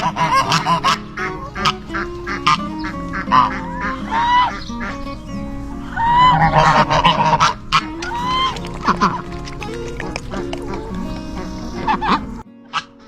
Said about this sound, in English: I brought some ice water for the ducks and geese